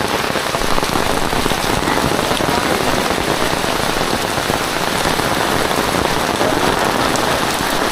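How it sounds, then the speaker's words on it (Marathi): Heavy monsoon rain falls at the Matheran hill station, a dense, loud, continuous patter on surfaces with no voices heard. "पाऊस पण एकदम खूप लागता असा"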